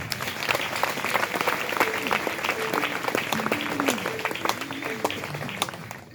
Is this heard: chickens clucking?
no